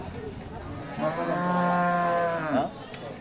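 A bull calf moos once at a cattle market in Dinajpur, a drawn-out call of about two seconds over low crowd murmur.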